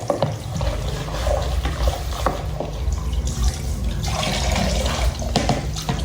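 Running tap water splashes steadily over vegetables being washed in a sink, a loud continuous gush with shifting splashes and sloshing throughout.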